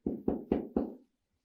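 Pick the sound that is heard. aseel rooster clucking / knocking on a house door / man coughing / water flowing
knocking on a house door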